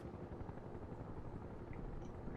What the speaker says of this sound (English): There's a scout helicopter, a little bird flying over there.